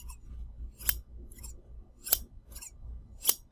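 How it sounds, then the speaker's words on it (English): Fabric shears snip crisply several times at close range, each sharp cut followed by a softer sliding sound, in a quiet setting. "That's a badass pair of scissors."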